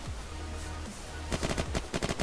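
Bulldog gunfire in the video game Unturned during PvP play, a rapid burst of about a dozen sharp shots in the second half after a low rumbling hum.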